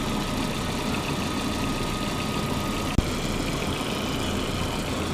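A 1999 Volkswagen Passat 1.8T engine idling roughly with a faulty mass airflow sensor, a steady close engine drone with one brief knock partway through.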